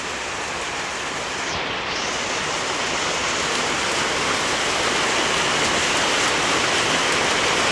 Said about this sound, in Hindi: कहाँ मैं धूप का इंतज़ार कर रही थी, इतनी बारिश।